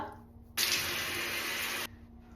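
Water from a tap gushes in a single steady burst of about a second while a face is rinsed after cleanser, with quiet room tone before and after.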